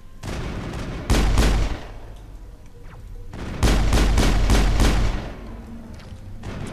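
Gunfire in the Mass Effect game, with bursts of rapid loud shots in two main clusters separated by quieter stretches of sparse reports and background rumble.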